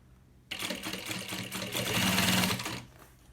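A sewing machine stitches along the fabric edge of a baby bag, starting abruptly into a fast steady mechanical whir that runs close and clear before stopping, with no talk.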